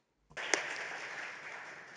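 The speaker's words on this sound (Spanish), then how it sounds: "una ovación para nuestros distinguidos panelistas" An audience at a conference panel breaks into applause for the panelists, starting abruptly from silence with a sharp first burst and then settling into steady, moderately loud clapping.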